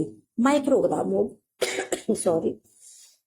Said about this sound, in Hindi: फिर खांसी आने लगी।